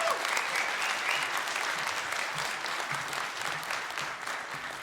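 Warm audience applause for a speaker on stage at a late-night 38C3 conference talk, steady broadband clapping from a large crowd, moderately distant and continuous.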